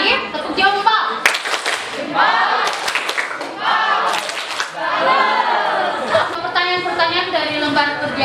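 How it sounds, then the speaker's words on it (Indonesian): Students clap together in a classroom, a group 'thumbs-up' clap for classmates who just presented, with shouts and chatter mixed in over a steady, fairly loud burst. "Berikan tepuk jempol untuk teman-teman yang sudah presentasi tadi"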